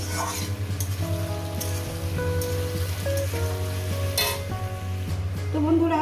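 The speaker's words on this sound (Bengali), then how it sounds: "হলুদটা দিয়ে এক মিনিট একটু ভেজে নেব" Turmeric fries in hot oil for a Bengali lau aloo posto (bottle gourd and potato poppy seed curry), a steady soft sizzle running continuously under prominent tonal background music.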